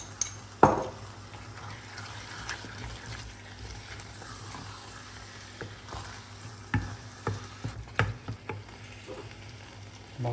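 Peppers go into a pan of chili con carne, which sizzles continuously, while a utensil scrapes and taps the pan in scattered knocks, close up.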